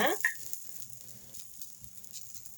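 Chutney ingredients fry on an iron tawa with a quiet, steady sizzle and a brief louder crackle of spattering at the start.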